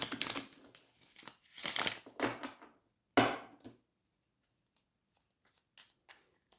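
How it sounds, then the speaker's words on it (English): Tarot cards are shuffled by hand in several quick riffling bursts, crisp and close, separated by short pauses and a few faint taps toward the end. "Three shuffles."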